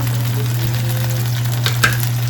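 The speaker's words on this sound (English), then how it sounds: "So we're just going to simmer this now" Noodles simmer in a pan, giving a steady close sizzle and bubbling hiss under a constant low hum, with a couple of brief clinks near the end.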